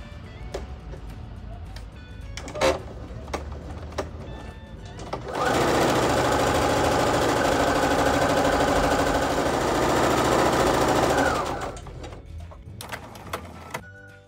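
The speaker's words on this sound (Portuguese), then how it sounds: "E vamos passar uma costura reta aqui." A sewing machine runs a straight seam on a pillowcase, with pinned fabric placed right sides together. The motor whirs loud and steady for about six seconds, framed by quieter handling clicks before and after.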